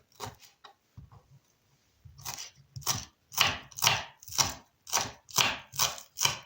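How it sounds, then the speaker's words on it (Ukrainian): Fresh dill chopped with a knife on a board for a beet vinaigrette salad: a few soft scattered taps at first, then a steady run of about eight sharp, close, evenly spaced chops. "Нарізаю також нашу зелень, в мене укропчик"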